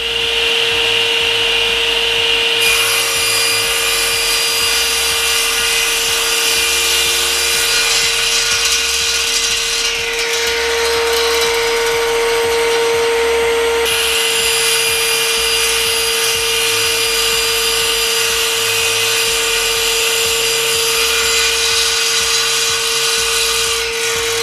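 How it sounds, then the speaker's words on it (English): A SIP professional cast iron 10-inch table saw rips Iroko hardwood on its sliding carriage, a loud steady whine with a shifting pitch as the blade bites through the board, running continuously with no talk. "we don't have to now hold the wood other than guide it through the saw"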